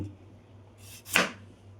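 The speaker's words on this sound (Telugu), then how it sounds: "ఉల్లిపాయ ఉంది కదండి ఇలా సెంటర్ కట్ చేసుకొని" A single knife cut through an onion, one soft slicing stroke followed by a sharper chop against the board, faint and brief in a quiet kitchen.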